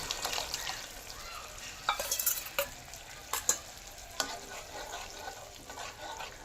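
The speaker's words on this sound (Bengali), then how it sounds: "এবার করে রাখা মশলার পেস্টটা আমি এর মধ্যে দিই।" Masala paste for a vegetarian matar paneer fries in a pan with a soft continuous sizzle, broken by several sharp scraping strokes of a spoon stirring it; no one speaks.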